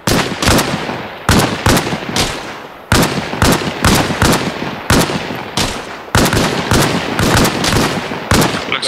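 Gunfire in the video game Arma Reforger: loud, close bursts of rapid automatic shots, with several separate volleys cracking one after another and no talking in between.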